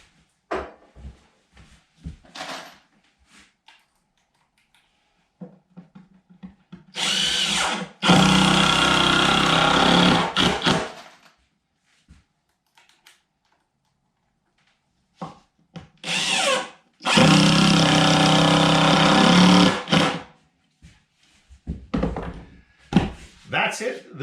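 A power drill drives screws into wood while building a storage pallet, in two long loud bursts a few seconds each, with shorter tool noises and handling clunks between and brief talk around them.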